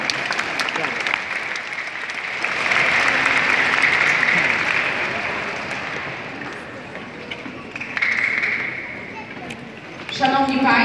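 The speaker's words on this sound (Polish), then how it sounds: "Też wielkie brawa." Applause from an audience at the opening of a Polish national school and preschool chess championship, a broad steady patter of many hands that swells, eases and rises again, with a voice speaking briefly at the end.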